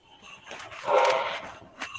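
Dog giving a short whining bark that swells and fades, followed by a faint yip, heard close and on its own in an indoor setting.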